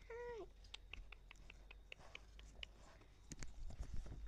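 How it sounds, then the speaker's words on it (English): A cat gives one short, clear meow at the start, followed by faint steps and light rustling close by in a quiet setting. "my favorite cat."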